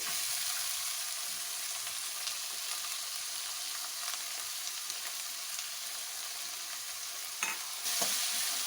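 Onions frying in ginger-garlic oil for dum aloo, a steady dense sizzle running close and continuous with a few soft stirring scrapes near the end.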